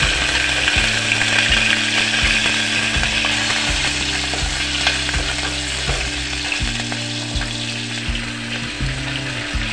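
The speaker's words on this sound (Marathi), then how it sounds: "बारीक चिरलेली मिरची टाकत आहे।" Finely chopped green chillies frying in hot oil with bay leaves and cumin, a steady loud sizzle running throughout, broken by a repeating mechanical ratcheting hum that starts and stops in the background.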